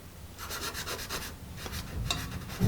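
Dry, raspy scratching of a Paper Mate Mirado #2 HB pencil on paper in short repeated strokes, fairly close and steady, with no talking.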